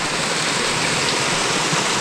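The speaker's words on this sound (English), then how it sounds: "this cute little waterfall" A small waterfall on the Pacific Crest Trail near Rainy Pass in Washington pours as a loud, steady, close hiss of rushing water without any talking.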